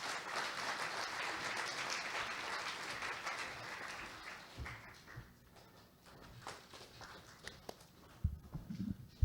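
An audience at an electrical engineering society's conference opening ceremony applauds to welcome a speaker, a faint, distant wash of clapping that thins after about five seconds into scattered, isolated claps.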